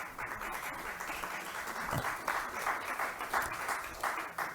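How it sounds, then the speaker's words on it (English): Audience applause at a gathering in an ashram, a steady wash of many hands clapping that runs throughout at moderate level, with faint voices mixed in. "You should applaud, isn't it true?"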